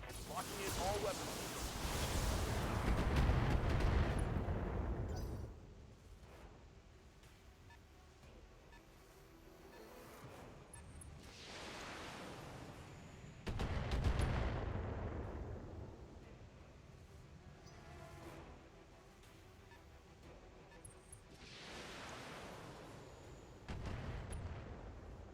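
Mech weapons in BattleTech fire in heavy, booming volleys that arrive roughly every ten seconds and fade between bursts, mixed with faint electronic beeps and quieter stretches.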